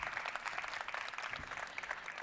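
Soft audience applause after a speech at a summit on traffic signal control, a steady even patter of many hands that stays faint throughout.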